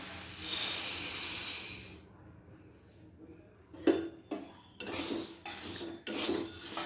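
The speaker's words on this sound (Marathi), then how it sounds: "आता आपण त्यामध्ये गहू टाकणार आहोत" Whole wheat grains poured into a hot kadhai, a broad rattling, scraping rush for about two seconds, then quiet, followed by several brief scrapes and clatters as the grains are stirred in the pan.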